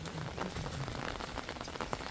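Heavy rain from a storm in El Salvador pours down steadily, a dense continuous hiss of drops striking surfaces with no pauses, close and fairly loud throughout.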